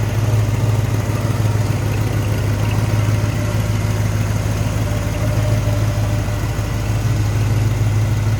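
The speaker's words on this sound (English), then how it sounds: "Seems to be a smooth running V8." A 1965 Ford Mustang Coupe's V8 engine idles steadily and loudly up close, a constant low rumble with an even, smooth rhythm throughout.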